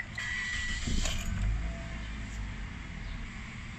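A Toyota engine idles steadily at operating temperature after its electronic throttle body was cleaned, a low even hum with faint mechanical ticking and a brief louder swell early on, close by with no talking.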